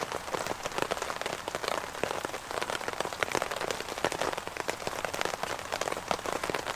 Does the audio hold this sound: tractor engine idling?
no